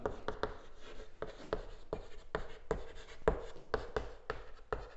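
Marker or chalk strokes on a classroom board during a Class 10 physics lesson on electricity, a steady run of short scratchy writing strokes, close and clear, with no talk over them.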